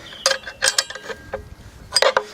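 A large blade is tightened onto a Diaquip 350mm electric disc cutter with the spindle lock engaged: a few close, sharp metallic clicks and ratcheting creaks in short bursts.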